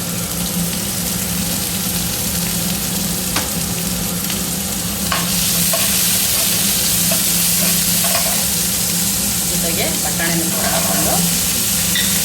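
Carrots and beans frying in a pan for masala pasta, a steady close sizzle with occasional scraping stirs and light clicks of a utensil throughout.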